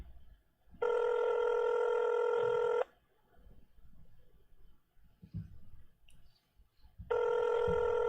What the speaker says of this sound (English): So utilizing that VoIP, I'm going to go ahead and call this telephone number.